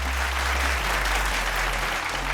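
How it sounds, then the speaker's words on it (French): Audience applause for the models at a fashion show, heard as a dense, continuous wash of clapping over a steady low hum, loud and unbroken from start to finish. "Est-ce qu'on peut applaudir pour nos mannequins?"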